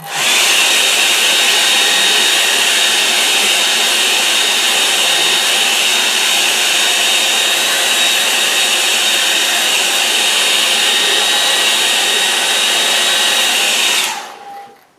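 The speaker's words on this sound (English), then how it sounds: "Where's the dryer?" A hair dryer roars loud and steady at close range drying watercolour paint for the whole stretch, then cuts off abruptly at the end.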